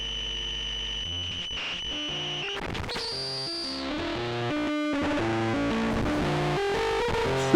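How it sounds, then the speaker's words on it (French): White noise from a rare GmeBogosse4M synthesizer routed in microphone mode, a harsh distorted wash of buzzing tones and shifting pitched layers that thickens and grows louder over several seconds, played alone. "dès lors que je trafique le bruit blanc et que je le mets en mode micro"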